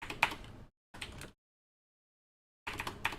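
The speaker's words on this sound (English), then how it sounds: "typing." Typing on a computer keyboard during a beginner Python coding session, heard as two short bursts of clicking keystrokes, then a long silence and a third burst, with no talk.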